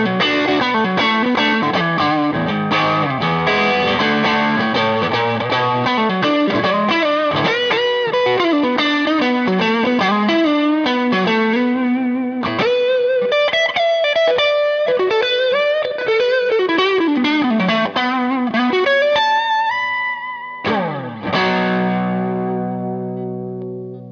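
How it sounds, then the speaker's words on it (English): A Fender Masterbuilt 1960s Stratocaster electric guitar plays loud distorted riffs and sustained chords, ending on a ringing held chord with no voices. "let's hear some distorted tones from this beautiful guitar"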